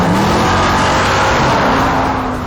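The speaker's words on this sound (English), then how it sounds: "If I stand on the accelerator, It doesn't just accelerate, it rears and snores." A Ford Mustang engine roars loudly and up close as it accelerates hard, a deep, throaty rumble rising steadily in pitch.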